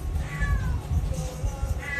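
A male cat meows twice nearby during wood burning work, short rising cries over a low rumbling background.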